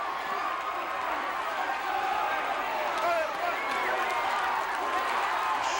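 Capacity wrestling arena crowd cheering and roaring in pandemonium as two young wrestlers fight back against the Iron Sheik and the Russian, a dense, steady wall of noise without pause.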